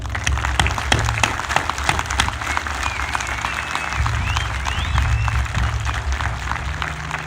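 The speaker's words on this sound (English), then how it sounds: "to give them a huge round of applause." An audience at a 2020 high school graduation breaks into sustained, dense applause for the graduates, steady clapping filling the space with crowd noise underneath.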